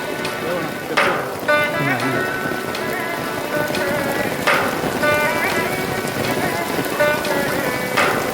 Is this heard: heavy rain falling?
yes